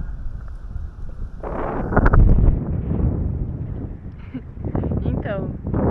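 A south wind gusts over a lagoon, a loud rumbling buffet of wind against the microphone that surges and eases throughout, with faint higher rustling mixed in.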